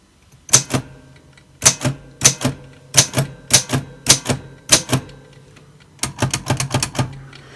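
Sharp mechanical clacks of a typewriter, keys struck in an uneven rhythm of single strokes and quick bursts, close and loud with no talking.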